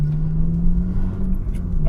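Steady, close engine drone from inside a car being driven, a low constant hum with faint road rumble and no clear gear changes.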